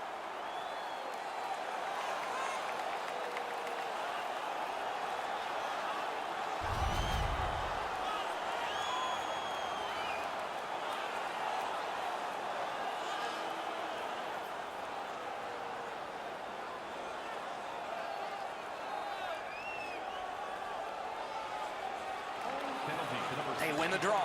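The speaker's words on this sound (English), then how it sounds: "Their man's won the fight. The crowd is ecstatic." A broadcast crowd in the NHL 19 hockey video game roars in a steady, sustained wash after an on-ice fight, with a commentator talking over it throughout.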